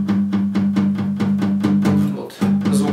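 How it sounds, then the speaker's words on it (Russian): Palm-muted acoustic guitar chords strummed in steady eighth notes, the strings damped by the edge of the right hand at the bridge, giving short, thumpy, evenly spaced strokes with a brief break near the end; no talk. "Берем опять-таки прием palm mute."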